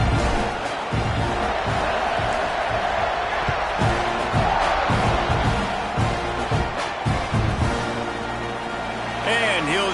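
A dense, steady roar from a stadium crowd in a football video game fills the whole stretch, loud and continuous, with faint thuds and swells beneath it.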